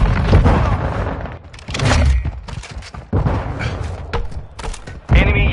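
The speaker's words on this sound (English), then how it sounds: "Stun grenade out!" Stun grenade flashbang blasts in a video game, several sharp loud bangs and thuds in irregular bursts amid combat noise, with voices talking throughout.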